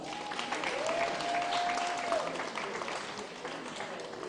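An audience at an awards ceremony in Kisii claps together in a sustained round of applause, fairly close, while a voice briefly carries over the clapping.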